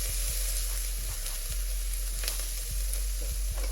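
Chilies fry in hot oil in a pan for Black Pepper Tofu, giving a loud steady sizzle with soft stirring clicks and scrapes over it, close by and with no voices.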